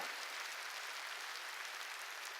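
A church congregation claps together during a worship service, a steady dense wash of applause from many hands, fairly quiet and distant, continuing evenly with no speech over it.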